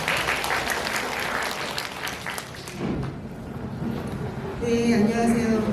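An audience claps for a professor introduced at a Korean art college's class review session, a dense, steady round for about three seconds that then fades out as a few tonal sounds take over.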